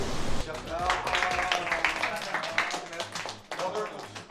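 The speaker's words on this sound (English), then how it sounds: "the clapping after each person spoke" A small group claps briefly after someone finishes speaking, uneven close hand claps overlapping with voices talking at the same moment.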